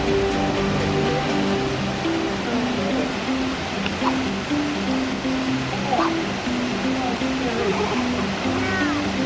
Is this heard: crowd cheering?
no